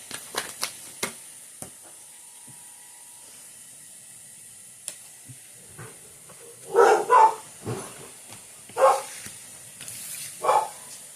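A dog barks indoors in a few scattered bursts, single and doubled barks spaced several seconds apart, moderately close, after a stretch of quiet clicks and soft room noise.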